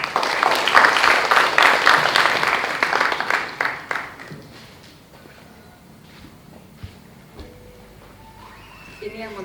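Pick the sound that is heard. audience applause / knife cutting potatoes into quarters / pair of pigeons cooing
audience applause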